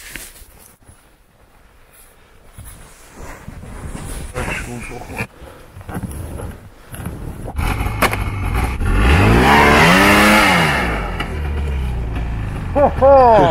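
A snowmobile in low gear strains uphill through snow on a Yakutia trail, its engine rising to a loud, whining roar that peaks and holds, with people talking around it.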